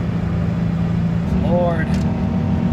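A 1993 Subaru Impreza GC engine held at full throttle in fourth gear, a steady loud drone throughout with a brief voice mixed in partway.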